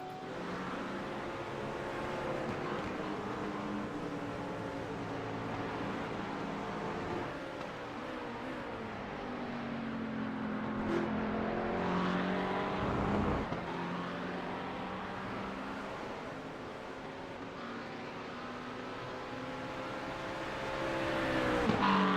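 GT3 race cars in a racing video game at Interlagos roar past, engines rising and falling as they shift gears, several cars overlapping and passing nearby, with a brief loud swell partway through.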